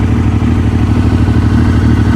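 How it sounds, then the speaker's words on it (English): A Kawasaki H2 SX SE motorcycle engine idles steadily after a jump start, a close, loud, even low rumble with a fast regular pulse and light mechanical clatter, no voices. "So with the bike jump started and idling nicely,"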